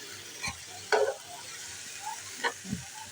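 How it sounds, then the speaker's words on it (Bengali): Kolmi (water spinach) greens are stirred and fried uncovered in a pan, a few spatula scrapes and clacks over a low, steady sizzle. "আমি শাকগুলোকে ঢাকি না, এমনি নেড়ে চেড়ে নিই"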